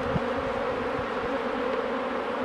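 Honeybees buzzing steadily around a Mini Plus hive as frames are shaken out, a dense close drone with a few soft knocks.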